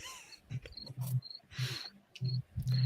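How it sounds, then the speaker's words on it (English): Crickets chirp faintly in short, high-pitched bursts picked up by a microphone indoors, mixed with low murmuring and soft rustling noises. "I can actually hear crickets. Yeah, that's coming from Ben's mic."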